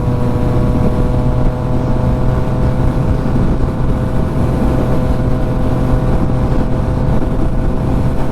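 A race car engine drones loudly and steadily on track while closing on and passing another car, a continuous roar with little change in pitch.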